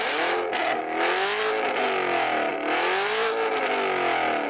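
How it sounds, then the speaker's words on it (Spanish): A Chevrolet Camaro muscle car engine is revved hard in two rising and falling swells. The tone is loud and harmonic, with no talk over it. "Así que voy a revolucionar este Camaro."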